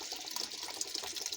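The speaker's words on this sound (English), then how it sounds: "All right, in goes my chicken broth." Chicken broth pours from a can into a cooking pan for a stew, a brief close liquid splash and trickle heard alone.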